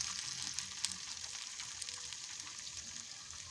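Potato pieces sautéing in a covered pan, a soft continuous sizzle with small crackles and a few stirring scrapes, fairly quiet and without talk.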